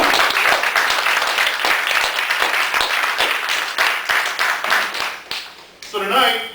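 A church youth service crowd applauds in steady, loud clapping that runs for several seconds, then thins out as a voice begins speaking over the end.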